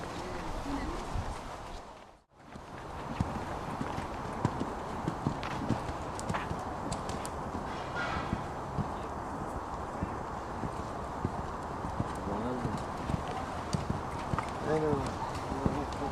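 Hooves clip-clop steadily from a horse named Rocher during a D'Orgeix riding clinic, a regular rhythmic patter close by with a brief pause near the start, while a French-speaking instructor talks over it throughout.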